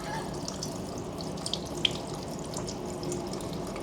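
Water is poured and brushed over a layer of grease during a water resistance test, giving a steady close splashing wash with a few brief drips and clicks and no voices.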